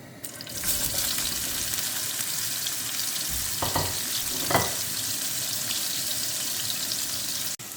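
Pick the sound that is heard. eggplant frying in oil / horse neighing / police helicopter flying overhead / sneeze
eggplant frying in oil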